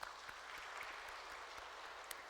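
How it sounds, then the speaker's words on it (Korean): Church congregation applauding, a soft, steady wash of many hands clapping, heard faint and from a distance, with no voices over it. "우리 하나님 앞에 영광의 박수를 좀 올려요."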